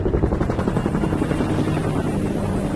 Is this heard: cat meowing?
no